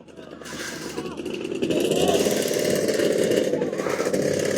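An old prototype motorcycle fitted with two engines runs at a vintage two-wheeler gathering, a busy mechanical drone that swells after a second and holds steady, close and fairly loud, with crowd murmur underneath.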